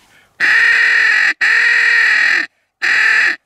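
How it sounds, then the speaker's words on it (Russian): Three loud, long caws from a nearby crow on a spring hunt along the Oka river, each harsh call about a second long, separated by short gaps. "Вороны есть."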